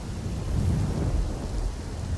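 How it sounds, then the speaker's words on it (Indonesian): Thunder rumbles through a great storm with heavy rain pouring down, a continuous deep roll of low booming under a dense, steady hiss of rainfall, loud and close with no voices. "Bayangkan sebuah badai besar, hingga mampu mencabut pohon yang besar. Air hujan turun dengan suara yang mengerikan."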